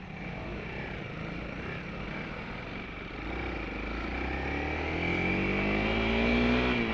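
A motorbike on a muddy trail revs its engine, the pitch climbing steadily and the sound growing louder and closer toward the end as the rider lifts into a wheelie.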